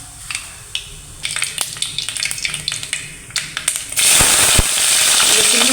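Mustard and cumin seeds splutter in hot oil for a dal tadka, a scatter of sharp pops and crackles at first that swells into a dense, loud sizzle toward the end, with faint talk early on.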